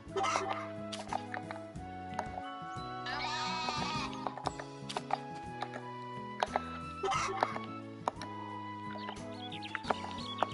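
A goat bleats in the farming game Story of Seasons: A Wonderful Life. Several short bleats sound over upbeat game music with plucked melodic notes and bouncy bass.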